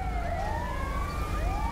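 In the video game GTA V with the LSPDFR mod, ambulance sirens wail as they arrive on scene, overlapping rising and falling tones over a low engine rumble, with no talking.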